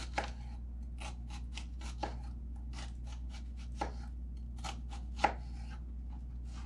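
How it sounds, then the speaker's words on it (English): Knife chopping an onion for fruit salsa on a cutting board, a series of close, quiet, crisp cuts at an uneven rhythm over a low steady hum. "you're gonna cut your onion into slits, not all the way down, or not all the way through"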